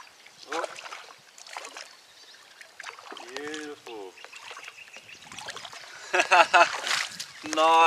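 Paddle strokes from a kayak on a lake on a fishing trip make soft splashes and water trickles at close range, with voices talking intermittently over them.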